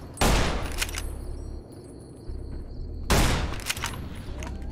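Gunfire in the game Enclave: two loud bursts of shots roughly three seconds apart, each with a sharp attack and a brief rumbling tail, over a low steady background.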